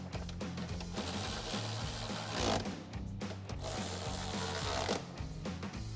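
A ratchet with a 13mm socket tightens a bolt while Rough Country power running boards are fitted to a Jeep Gladiator JT, a steady fast clicking of the pawl running nearly nonstop, close and clear.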